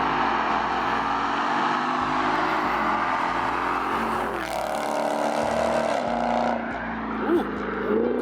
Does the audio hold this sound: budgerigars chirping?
no